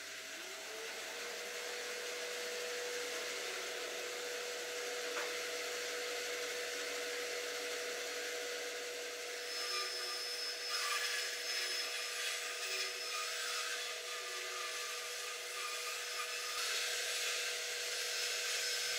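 A steady, high-pitched whine of a band saw running continuously as it makes a test cut through wood, with a slight rise in grinding texture partway through.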